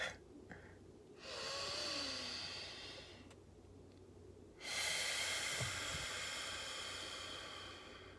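Slow, deep breaths during a meditation practice: two long airy inhalations or exhalations, each lasting a few seconds and separated by a quiet pause, close and soft with no talking.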